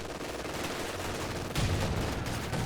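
Gunfire in a competitive squad-based shooter video game, a dense rattle of shots that swells into a louder burst halfway through, sustained and close with no pauses.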